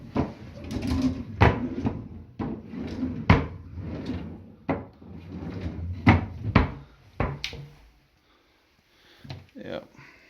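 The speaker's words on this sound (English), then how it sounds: "drawers." Drawers and cupboard doors in a rented home being inspected at the end of a tenancy are opened and shut repeatedly, giving a run of sharp wooden knocks and slides, close and fairly loud, with a voice talking between them.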